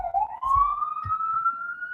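A passing emergency vehicle's siren wails in a long, steadily rising tone, clear and fairly loud, with a few low thumps beneath it and no talk.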